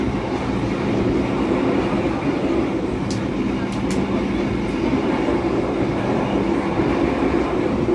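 An Argo Semeru passenger train in Indonesia, heard from inside a carriage: a steady loud rumble and roar of the moving train with faint clicks, and a person talking quietly under the noise.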